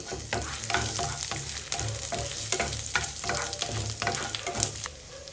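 Cinnamon lightly frying in a pan for tomato soup gives a steady close sizzle, broken by repeated scraping stir strokes throughout, with no voices.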